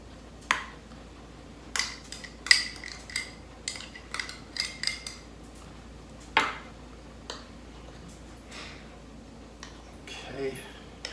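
Utensil clicks and taps from spreading a ketchup, red wine vinegar and brown sugar topping over a venison meatloaf, irregular light knocks close by with quiet pauses between them.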